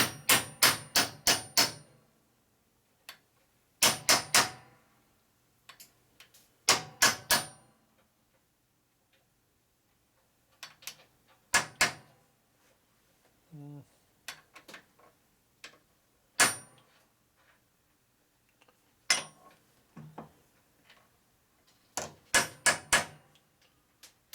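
Sharp metallic hammer strikes driving bearings into a 1965 Harley-Davidson Panhead 74ci engine lower end, in short bursts of several quick blows separated by pauses, with a faint clink in between.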